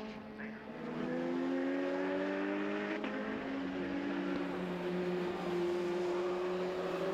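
Lotus Cup race cars lap the Brands Hatch circuit, several engines droning together at steady high revs with a slight pitch climb, sustained and moderately distant throughout.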